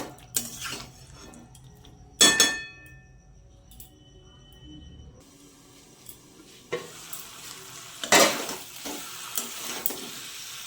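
Young jackfruit cooking with spices in a pan for a vegetarian curry, a low sizzle broken by a few loud scrapes and clanks of stirring against the pan.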